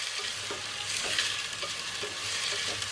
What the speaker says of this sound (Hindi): अब हम जो इसे अच्छे से फ्राई करेंगे ताकि आलू जो है वो गल जाए।